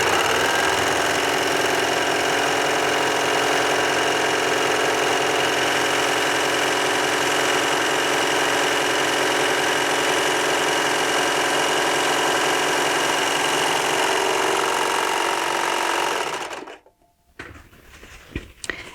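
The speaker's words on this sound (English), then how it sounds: "now I'm going to run it through for a beautiful rolled hem" A Baby Lock Victory serger sews a rolled hem, running loud and close in one steady, continuous buzzing whir for about sixteen seconds before abruptly stopping, followed by a few faint handling clicks.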